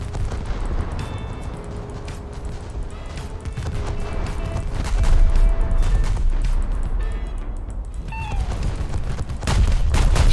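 Rapid gunfire and heavy booming shots in War Thunder's World War One setting, loud repeated bursts and blasts crowding together with battle clatter throughout.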